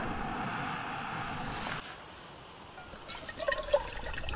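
Water poured into a camping stove pot for boiling, a soft trickling pour for under two seconds, then quiet, followed by faint splashes and clinks near the end.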